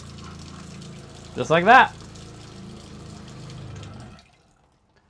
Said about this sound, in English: you turn a valve underneath the sink, and then the water comes out of the extra tank